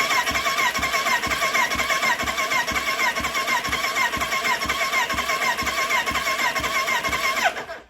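A 1985 Kawasaki GPZ 750 R engine cranks over on the starter during a compression test, a steady rhythmic churning that runs for about seven seconds before cutting off abruptly.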